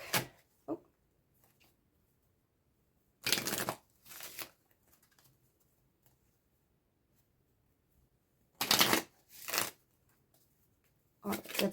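A small oracle card deck being shuffled in a few short, crisp riffling bursts, close and fairly loud, separated by long quiet gaps.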